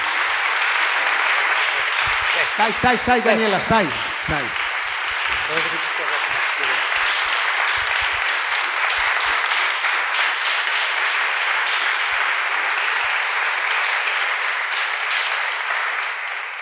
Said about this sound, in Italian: E allora, con un applauso...